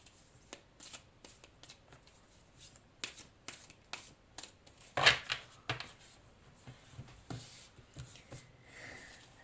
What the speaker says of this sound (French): Alors, je vais tirer 5 cartes de chaque.